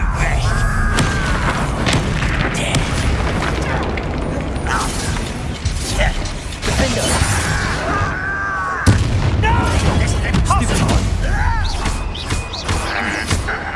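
Confringo fire spell in Hogwarts Legacy bursting with loud booming explosions and clattering impacts, repeated through dense battle noise, with voices shouting over the din.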